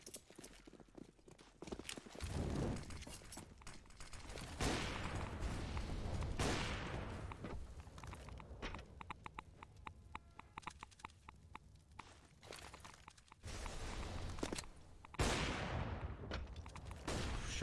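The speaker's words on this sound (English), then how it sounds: "Shots ring out across the A site," Gunshots in a Counter-Strike: Global Offensive esports match on the A site, a stretch of sharp shots and bursts ringing out amid steady in-game background noise and footsteps, with a few louder cracks.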